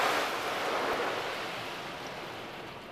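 Water rinse spraying inside an automatic Ryko Radius car wash at a BP station in Davenport, Iowa, a loud continuous hissing rush that slowly fades slightly, heard from inside the car with no talking.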